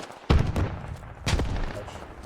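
Rifle fire aimed at a wall in the military shooter game Squad: two heavy, close shots about a second apart, each with a booming tail that rolls away.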